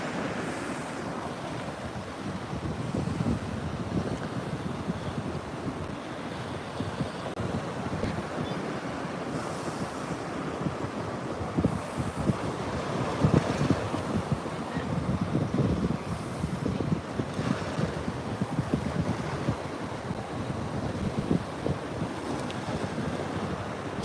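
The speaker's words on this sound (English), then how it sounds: "waves coming up" Surf rolling onto the shore during coastal flooding from Hurricane Erin, a continuous roar of breaking waves mixed with heavy wind buffeting the microphone, steady and loud throughout with no speech.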